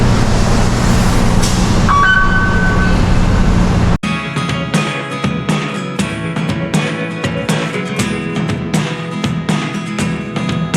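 Rumbling train noise at a GO Transit station in Toronto: a steady low drone with a brief high tone, then a string of sharp rhythmic clacks and rattles as cars roll past.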